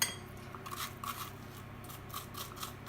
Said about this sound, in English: So carefully with a spoon, dig all of those seeds out of both halves.